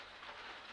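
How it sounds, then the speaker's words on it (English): Rain falls steadily on a roof, a soft, even hiss of drops with no other sound over it. "The sound of the roof on the sound of the rain on the roof."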